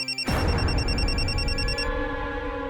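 A telephone rings on a call to friends: a bright electronic ring starts abruptly and repeats in a steady pulsing pattern, fairly loud, with a low background hum and no talking.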